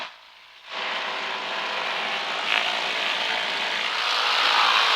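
The engines of a 1959 Cessna 310C twin-engine aircraft run up after a quiet start, a loud steady broadband roar heard from inside the cockpit that rises slightly toward the end, with no talking.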